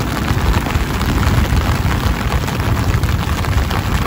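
Heavy rain pours down outdoors during a fishing trip for mudfish, a loud, dense, unbroken hiss that holds steady throughout with no voices.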